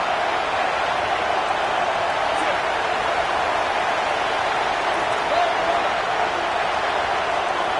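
Stadium crowd at a college football game against USC, a loud, dense, continuous roar of thousands of voices filling the whole stretch with no breaks.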